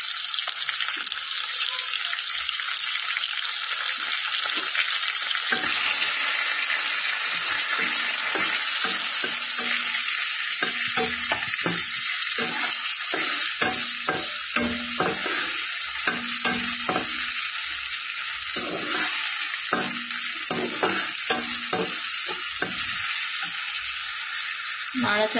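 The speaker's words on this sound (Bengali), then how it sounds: "নাড়াচাড়া করে নিচ্ছি। এই দেখো পেঁয়াজটা ব্রাউন ব্রাউন হয়ে গেছে।" Onions fry with a little salt in a pan for omelette curry, a bright steady sizzle with frequent scraping and tapping of a stirring spoon, sparse at first and busier later.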